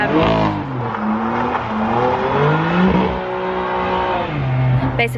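A BMW M4 drifts on a wet skid pad, its engine revving hard and continuously up close, the pitch repeatedly climbing and falling as the throttle is worked.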